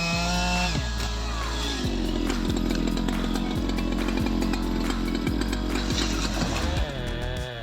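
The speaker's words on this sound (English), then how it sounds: "Careful calculation and skillful use of the chainsaw were the keys to safely felling 2 large Dracaena trees on the high mountain" A chainsaw fells large Dracaena trees on a high mountain, its engine snarling loudly and steadily, with pitch dipping and rising as the chain bites into the wood.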